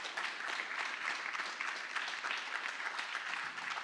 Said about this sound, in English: can we just give a round of applause to each and every one of these businesses here tonight?